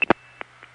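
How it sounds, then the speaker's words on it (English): Telephone trunk handshake signal from Canton, Ohio, on a 1975 tandem-stacked long-distance call: a few short clicks and tone bursts over a faint steady hum on the line, brief and sparse. "And that's the handshake from Canton."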